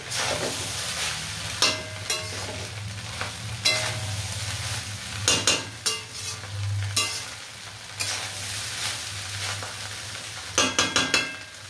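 Soya rice frying in a pan with a steady close sizzle, while a utensil stirs and scrapes through it in sharp, irregular bursts of clatter; a low continuous hum runs underneath, and no one speaks.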